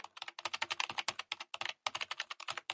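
Rapid typing on a computer keyboard in an office, dense clusters of close, crisp key clicks in quick bursts with a couple of short pauses, no voices.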